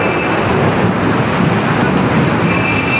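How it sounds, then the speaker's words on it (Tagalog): Strong wind in a rainstorm roars steadily and loudly throughout, a dense broadband rush without pause. "Ang lakas ng hangin!"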